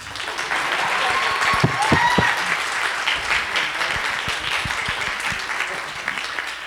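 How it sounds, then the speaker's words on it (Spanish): Sustained applause from an audience at an academic panel colloquium, with a few sharper nearby claps early on and a brief voice heard beneath the steady clapping. "Después, aplaudan."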